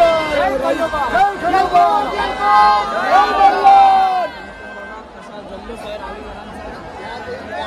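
A lively crowd celebrates at the Aai Raibadevi village festival in Rave, Pen, with dense chatter and excited voices close by that fade to a quieter murmur near the end.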